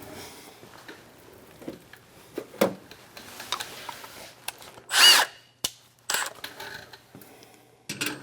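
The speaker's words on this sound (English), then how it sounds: "hold the nut, and tighten it with an impact" An impact wrench tightens a nut on the spring chain tensioner of a Muskox 23-78 snowblower, giving a loud, broadband burst of about half a second amid scattered clicks and handling knocks of tools and parts.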